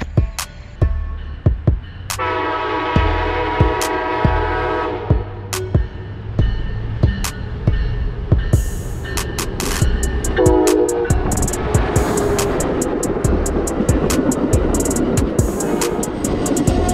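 An Amtrak train near the Katy Trail west of St Louis, with a loud multi-tone horn blast held for several seconds, a second horn burst later, and rumbling rail noise plus scattered clanks throughout.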